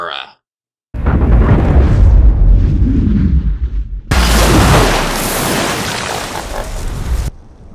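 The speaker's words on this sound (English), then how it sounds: "so Cage can swim down to the Omega, succeeding in sending a bandolier of grenades into it to blow it to hell" Grenades blow up inside the Omega in the film Edge of Tomorrow, heavy rumbling booms and roaring blasts that swell and crackle, loud and dense, with a sharper burst of debris noise midway and talk around them.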